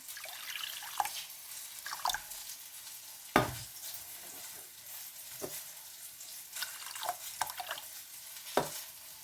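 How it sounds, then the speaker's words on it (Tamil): Water is poured into a pot of washed yellow lentils set on a stove, giving faint trickling and splashing with a few sharp clinks and knocks of a vessel against the pot, close by and without talk. "பிறகு நாங்கள் தேவையான அளவு தண்ணியை விடுவோம்"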